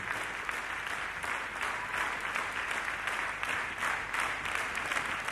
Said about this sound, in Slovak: Ja si myslím, že všetci vieme, komu patrí tento potlesk.